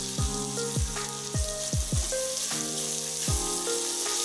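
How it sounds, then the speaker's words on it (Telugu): Ginger-garlic paste frying with freshly chopped mint and coriander dropped into the pan, a bright continuous sizzle with several sharp clinks of a spoon against the vessel, close and loud, no voices. "అల్లం వెల్లిపాయ ఫ్రై అయిపోయింది కదా ఇప్పుడు పుదీనా వేసుకుందాం చాప్ చేసుకున్న పుదీనా అలానే కొంచెం కొత్తిమీర"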